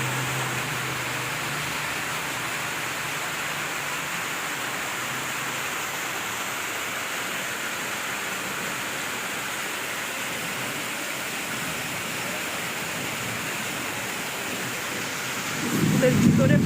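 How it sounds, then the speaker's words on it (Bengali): Heavy rain pours steadily in Chandpur, flooding a school grounds, a dense broadband wash that stays even throughout and swells louder near the end. "একটু বৃষ্টি হচ্ছে দেখুন।"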